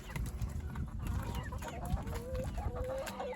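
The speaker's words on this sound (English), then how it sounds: "whatever we can't eat, the chickens will devour" Chickens clucking steadily around a camp, a few birds close by with repeated short clucks and a drawn-out call or two over constant low background rumble, no talk.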